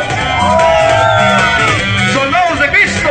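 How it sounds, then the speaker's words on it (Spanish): Church congregation at a religious gathering raising a loud, sustained shout of joy, many voices blending into continuous cheering and whooping. "Y que siga un grito de júbilo."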